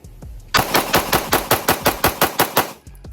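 Rapid string of about a dozen loud, close pistol shots from a Jacob Grey TWC Hex 2011 handgun during a torture test, evenly spaced in quick succession, then a sudden stop.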